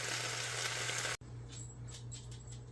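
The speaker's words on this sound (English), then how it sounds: "while the meat is heating up" Meat sizzling as it heats in a pan on the stove, a steady broadband crackle that cuts off abruptly partway through and resumes more softly with scattered pops over a low hum.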